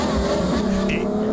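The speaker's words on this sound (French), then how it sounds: "qui a trouvé ce son d'une vraie Ferrari" A real Ferrari sports car engine drones with a sustained, fairly loud, rich tone, heard steadily for a moment with a faint higher squeal partway through.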